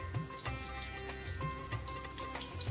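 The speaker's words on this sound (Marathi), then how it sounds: "भेंडी अशी फ्राय करून घ्यायची।" Stuffed okra (bhendi) fries in oil in a pan, a soft, steady sizzle with faint crackles and occasional low stirring bumps, quiet and without talk.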